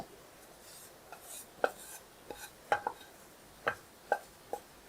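Garlic and dried fish being ground into a fine paste: quiet, rhythmic rubbing and knocking strokes repeat about once a second, close by, with no voices.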